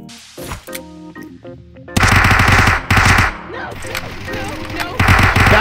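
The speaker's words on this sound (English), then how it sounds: "negligent discharge" Accidental gunfire in VRChat: loud bursts of rapid automatic fire crackle in uneven volleys, broken by short pauses, with voices mixed in among the shots.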